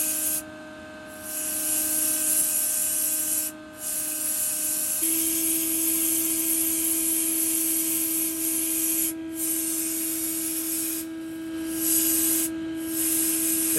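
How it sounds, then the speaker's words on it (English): Shop vacuum drones continuously nearby during motorcycle work on a Honda 350X, a loud steady whine that shifts pitch partway through and briefly drops out several times, with faint rubbing tool noise beneath. "We could probably run it without the vacuum."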